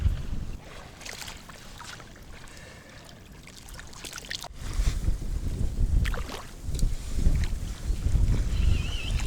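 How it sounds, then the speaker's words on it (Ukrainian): Gusty wind rumbles and buffets the microphone outdoors while feeder fishing in late February, growing louder and rougher halfway through, with faint splashing in the background. "Блін, вітер такий капець."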